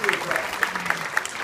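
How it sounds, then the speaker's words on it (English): Audience applause at a zoo bird-of-prey show: steady, dense clapping from a crowd for the full stretch, loud and close, with a few sharper claps standing out. "How about a nice big round of applause for Dave?"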